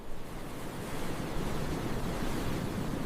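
Pacific Ocean waves pulling back from a rocky, cliff-lined coast, a steady broad wash of surf hiss that holds even and continuous throughout, with a faint rumble underneath and no voices.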